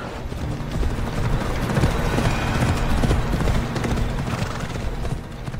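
Horse hooves clip-clop steadily in a video game, a loud continuous run of hoofbeats with a whinny mixed in and some mechanical game noise underneath.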